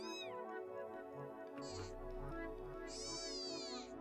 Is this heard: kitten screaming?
yes